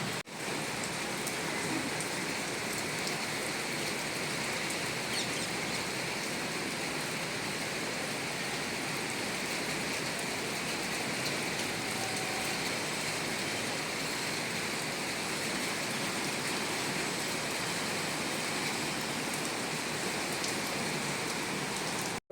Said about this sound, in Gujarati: તો આજે પાછો વરસાદ ચાલુ થઈ ગયો